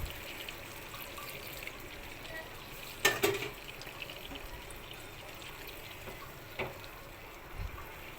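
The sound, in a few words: hot water poured into desi chicken curry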